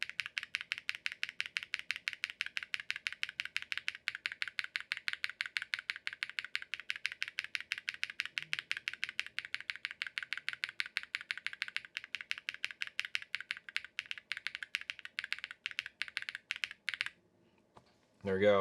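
Fast, steady typing on a custom TKL keyboard with PBT keycaps and Durock POM switches, crisp close clacks in an even rhythm, breaking off briefly before a few final keystrokes.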